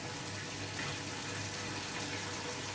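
A Zanussi washing machine's pump runs while the drum fills with water. A steady, dense gush and hiss carries on unbroken, close and even, with no voices.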